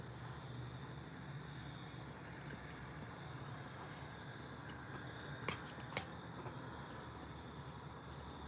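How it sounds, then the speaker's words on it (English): Crickets chirp steadily outside on a warm night, a continuous faint high trill filling the background, with a couple of brief sharp clicks near the end. "Can you guys hear the crickets?"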